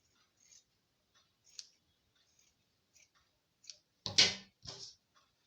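Scissors trimming fabric for a school uniform short knicker make sparse, faint snips at first, then a louder, sharper cut near the end, alone in a quiet room.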